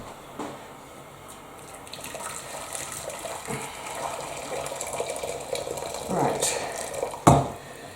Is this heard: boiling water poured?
yes